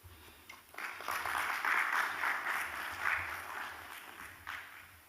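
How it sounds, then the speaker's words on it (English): An audience at a smart-city breakout session of Nairobi Innovation Tech Week applauds after a talk. The clapping is soft and somewhat distant, rising quickly and then tapering off. "Another round of applause for Chief Cecilia."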